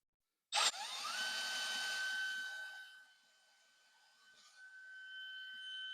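A Milwaukee M12 installation driver whirs into a screw inside a cramped drawer, starting with a sharp bite and a high steady whine that dips, then picks back up; fairly quiet overall.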